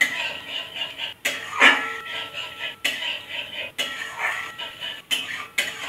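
A spoon scrapes and knocks against a pot as raw papaya kheer is stirred on the stove, giving repeated clinks and scrapes in an uneven rhythm at close range, mixed with faint background noise.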